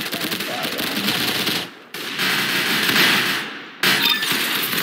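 Gunfire bursts from a weapon in the video game Arsenal, firing three rounds at a time, a dense loud crackle of shots that runs continuously with two brief gaps.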